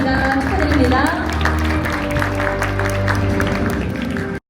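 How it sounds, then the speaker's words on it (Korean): Crowd applause at the Michelin Guide Seoul and Busan 2025 awards ceremony for a restaurant chef, a steady wash of clapping heard under background music and an announcer speaking. "큰 박수 부탁드리겠습니다"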